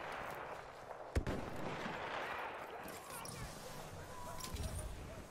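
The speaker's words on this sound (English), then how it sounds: "Machine gun over there." Video game gunfire rings out: one sharp, loud crack stands out early, followed by fainter distant shots and booms under a dense, steady rumble of battle noise.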